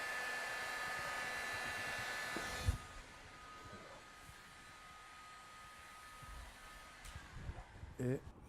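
A heat gun warms HX190WG2 vinyl film during a full wrap of a vehicle body, giving a steady, close blowing hiss that cuts out after a few seconds. A quieter room tone and a few soft handling knocks follow.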